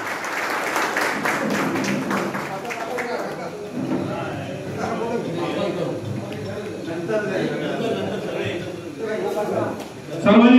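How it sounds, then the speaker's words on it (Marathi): Crowd applause welcoming new members joining Shiv Sena at a public induction event in Aarey, sustained clapping from many hands with speech and crowd voices mixed in throughout. "सर्वांनी टाळ्या वाजवून टाळ्याच्या गजरात त्यांचं स्वागत करायचं"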